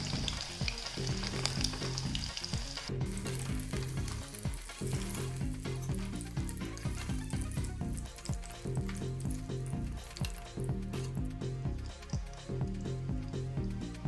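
Snakehead murrel fish pieces fry in hot oil with a loud, steady sizzle and crackle that runs throughout, marked by occasional stirring scrapes and no voices.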